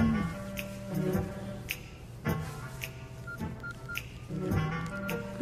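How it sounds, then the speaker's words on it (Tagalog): A mobile phone ringtone plays a repeating electronic melody of short tonal bursts in a steady pattern, fairly close and clear with no talking over it. "Ringtone ko yun."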